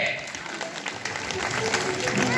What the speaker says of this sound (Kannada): ರೈತರ ರೈತರ ಇವ್ರಿಗೊಂದು ಚಪ್ಪಾಳೆ ಹೊಡ್ರಿ